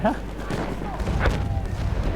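Gunfire and booms in the video game Battlefield 1, with muffled thumps and blasts in the background under someone talking.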